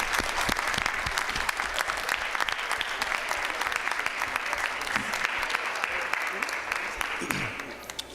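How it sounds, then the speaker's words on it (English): Applause at a school board meeting for high school students, a room full of hands clapping steadily with some sharp individual claps standing out, fading slightly at the end, with faint voices underneath. "Round of applause, please, for our young people from University High School."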